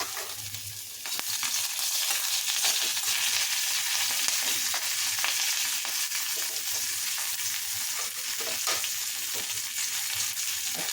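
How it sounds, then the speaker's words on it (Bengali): Five-spice seeds and a slit green chili fry in oil in a wok, a loud, steady close sizzle that swells after the first second, with faint stirring ticks throughout. "আমি এবারে 5 ফোড়ন দিচ্ছি, একটা কাঁচা লঙ্কা চিড়ে দিচ্ছি,"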